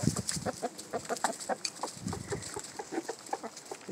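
Several chickens cluck and murmur in quick, overlapping bursts close by while being fed black oil sunflower seeds, a busy run of short clucks with no talking.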